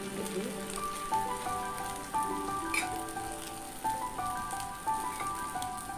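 Paneer and egg omelette batter spread around a hot pan with a ladle, giving a steady crackling sizzle with faint clinks and scrapes, no voices.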